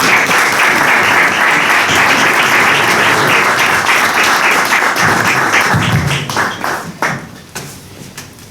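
An audience applauds at a book presentation in the Centro Riojano, loud dense clapping that holds steady and then thins out to scattered claps.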